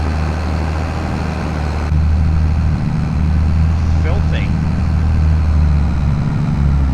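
A vintage tractor idles in Farming Simulator 25 with a steady low engine drone running throughout, while someone talks briefly over it.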